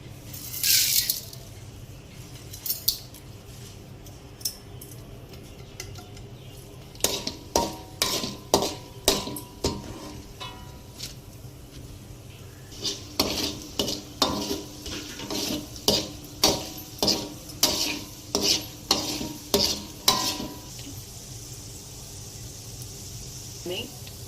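Mustard seeds, urad dal and chana dal crackle in sesame oil while a ladle stirs, producing bursts of rhythmic clattering strikes against the pan over a low sizzle, with quieter gaps between the bursts.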